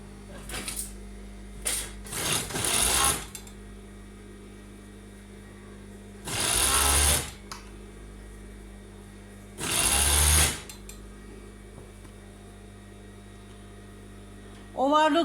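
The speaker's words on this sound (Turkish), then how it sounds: "Şu şekilde bacak aralarını dikiyoruz." A sewing machine stitches the inseams of tights in short bursts of rapid mechanical whirring, three main runs separated by quiet gaps over a constant low electrical hum, with small handling noises between.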